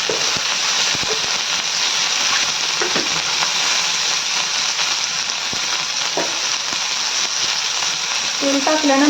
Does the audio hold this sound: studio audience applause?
no